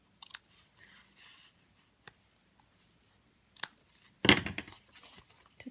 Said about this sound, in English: Snip the end.